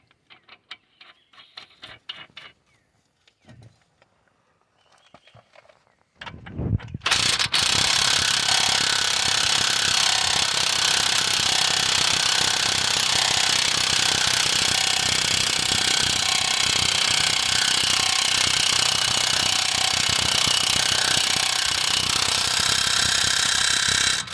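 Installing and tightening the axle nut on a 2009-2017 Chevy Equinox front passenger CV axle, with scattered clicks and clatter first, then a loud sustained rapid rattling hammer of a power impact tool running steadily close by.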